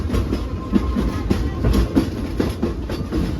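A passenger train car rumbling steadily along the rails, with rhythmic clacking wheels over a low, continuous roar.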